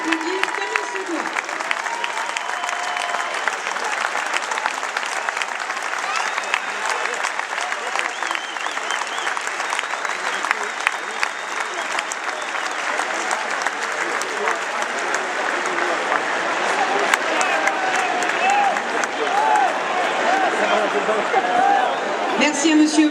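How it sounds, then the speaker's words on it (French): A stadium crowd at a Toulon versus Biarritz rugby match applauds steadily for the players, a dense sustained wash of clapping lasting over twenty seconds, with a faint announcer voice near the end. "Merci de les applaudir comme il se doit."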